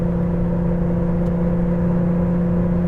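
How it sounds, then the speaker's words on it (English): A 1983 Porsche 911 with the 3.2 engine pulls uphill at half throttle, giving a loud, steady, droning hum that holds an even pitch throughout. "half throttle, gradually accelerating up to 80"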